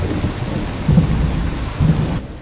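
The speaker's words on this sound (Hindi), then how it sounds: "बारिश अब भी वैसी की वैसी तेज होती रहती है।" Heavy rain pours steadily while two deep rolls of thunder swell up within a couple of seconds, loud and close, with no voices.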